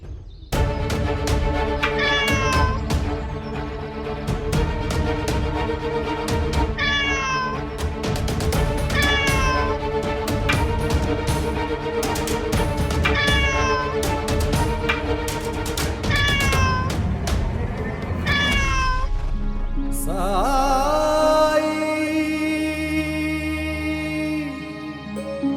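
A cat meows repeatedly in a tense household scene, with rising cries at regular intervals over a dense, loud music bed, ending in a more strident wail as the music shifts.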